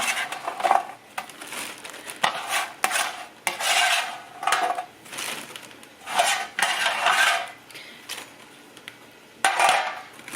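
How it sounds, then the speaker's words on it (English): A spatula stirs frozen cut potato fries for French fries, producing repeated bursts of rattling, scraping clatter separated by brief pauses, close and fairly loud. "when I stir them up, I kind of just go like that with the spatula and stir them up in the freezer"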